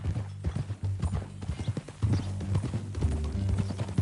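Horse hooves clip-clop in a steady rhythm within the Red Dead Redemption 2 game world, close and clear, with low background music and an occasional whinny mixed in.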